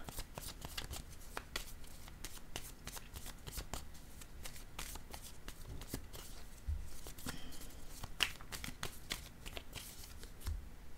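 Tarot cards are shuffled and drawn by hand, a quiet stream of soft riffling flicks and sharp card snaps at an irregular pace, close and faint, with no talking.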